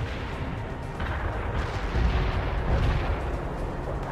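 Heavy artillery fire support in World in Conflict pounds continuously as dense, rumbling explosions and booms that roll over one another and swell louder midway, with no pause throughout.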